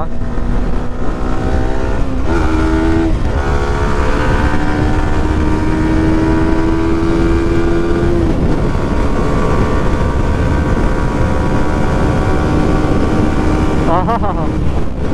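A Yamaha R15 V4 motorcycle ridden on a track, its engine loud and close with repeated rising revs through the gears and strong wind rush over the microphone, running continuously.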